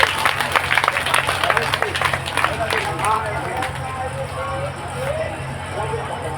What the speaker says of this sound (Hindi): इसलिए एक बार जोरदार ताली के साथ स्वागत करेंगे।